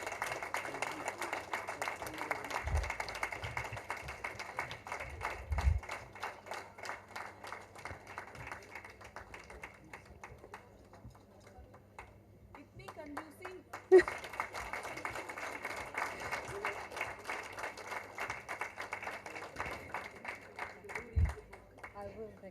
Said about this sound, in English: Come on, keep the applause going on, guys and girls.